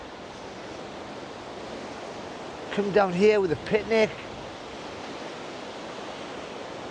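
Waves of the South China Sea wash in a steady broadband roar with wind noise on the microphone, while someone speaks briefly near the middle.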